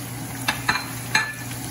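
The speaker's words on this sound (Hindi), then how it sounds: "इसके बाद अब मैं जो हूँ इसमें ये मैं सारा गोश्त जो है वो डाल रही हूँ।" Veal meat dropped into a hot pot for yakhni pulao sizzles steadily, with a few soft clinks and stirring knocks over the constant frying hiss.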